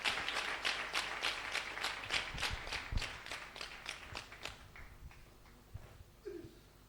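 A church congregation claps in praise, rhythmic applause in steady unison beats that loosens into scattered, fading claps toward the end, fairly near and lively.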